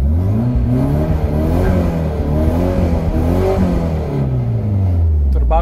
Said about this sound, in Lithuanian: Dusliarka, rezonansą pagavus.